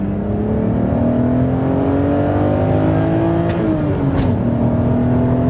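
A BMW E90 330i's straight-six engine pulls hard under steady acceleration, its note rising smoothly and loudly before a brief gear change, heard from inside the car with no talking.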